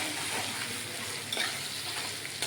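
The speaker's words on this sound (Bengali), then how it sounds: "আগুনটা একটু কম করে দিই, ভাজা হবে তো পুড়ে যাবে।" Green chilli and ginger fry in a pan over a lowered flame, giving a steady, close hiss of sizzling oil that runs without a break, with faint stirring scrapes and no voices.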